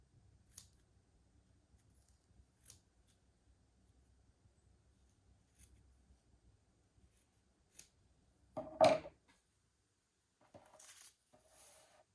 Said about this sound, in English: Next, cut out the pieces.